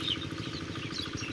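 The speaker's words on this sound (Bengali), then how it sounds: "সেচ দিচ্ছে" A diesel-powered irrigation pump runs steadily in a bitter gourd field, its close, continuous engine throb humming without a break.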